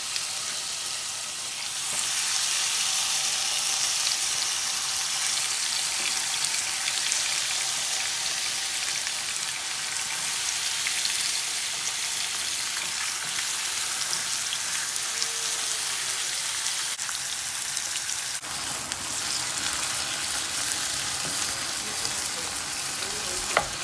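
Carne asada meat sizzles loudly and steadily in hot corn oil, a dense, constant frying hiss that sounds like heavy rain and holds for the whole stretch, with no talking.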